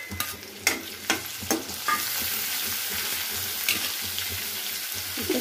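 Finely chopped tomato drops into a pan already sizzling with curry leaves, a steady frying hiss with several sharp spoon scrapes and clicks near the start, then continuous sizzle.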